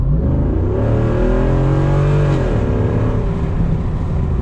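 A 2021 Jeep Wrangler Rubicon 392 engine revs loud and close, holding a deep, continuous roar that swells upward and then falls back, with no talking over it.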